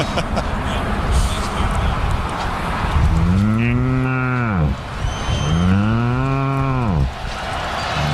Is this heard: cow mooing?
yes